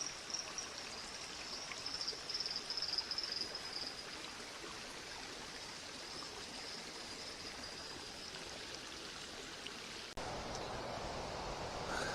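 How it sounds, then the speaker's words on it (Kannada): A stream flows below a forest trail on the Nethravathi Peak trek in the Kudremukh Western Ghats, giving a steady rushing roar, moderately distant and unbroken, with no voices over it. "ಇಲ್ಲಿ ಹಂಗೆ ಒಂದು ನೀರಿನ ಮೊರೆತ ಅಷ್ಟು ಭಾರಿಯಾಗಿ ಕೇಳಿಸ್ತಾ ಇದೆ"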